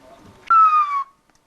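A single long whistled phrase of Silbo Gomero, the whistled language of La Gomera, rings out loud and close, a bright sustained tone gliding slowly downward for about half a second before cutting off into quiet.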